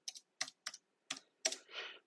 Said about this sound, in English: So if we try typing a date in here